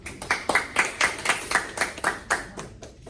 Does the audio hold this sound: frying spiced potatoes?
no